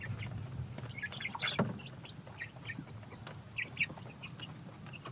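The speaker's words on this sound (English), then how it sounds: "Chickens everywhere." Chickens cluck softly in short scattered bursts over a low outdoor hum, with one sharper squawk standing out.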